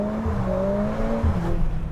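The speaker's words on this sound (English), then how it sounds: "maybe we can do a launch control start somewhere quickly" A Mercedes-Benz A45 S AMG makes a launch control start, the engine holding a steady buzzing drone and then rising in pitch with a gear change as the car pulls away.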